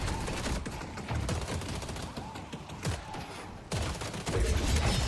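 McGinnis's ultimate barrage in the game Deadlock, a dense continuous fusillade of rapid impacts and blasts rolling on for several seconds, briefly dipping before swelling louder again.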